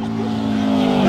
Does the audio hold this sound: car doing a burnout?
yes